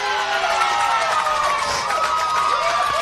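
A big crowd cheers and shouts at a women's rugby match between Victoria and NSW Country Corellas, a loud continuous roar with a commentator talking over it.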